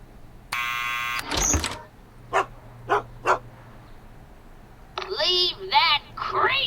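A dog barks in Back to the Future: The Game: a few sharp, close barks with short gaps, mixed with whimpering and in-game voices.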